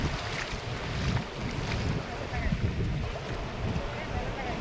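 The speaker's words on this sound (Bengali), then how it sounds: "ঢেউ আসছে" Sea waves washing up on the sand at a beach on the Digha coast near Mandarmani as the tide goes out, a steady broadband wash with wind buffeting the microphone throughout.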